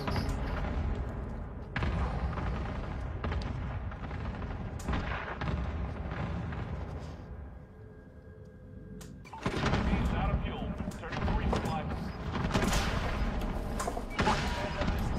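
Heavy gunfire and explosive bursts in a Call of Duty: Warzone match, loud dense volleys with a brief lull before another intense burst, voices talking at times.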